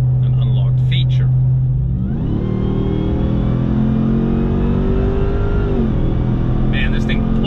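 A Dodge Ram TRX Mammoth 900 pickup engine, 900 horsepower, roars loudly and close, its pitch climbing steadily as it accelerates hard, then easing off with a shift near the end.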